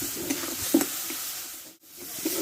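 Spice masala fries in a pan as it is stirred, a moderate sizzle with soft scraping strokes that dips briefly before resuming; no one speaks.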